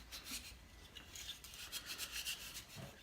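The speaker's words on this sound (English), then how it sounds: "Scrub it up all over." Scrubbing a Smith and Wesson M&P Shield pistol's rough-textured plastic frame with soap before a Duracoat paint job: a close, continuous wet rubbing rasp that swells in quick irregular strokes, with no talking.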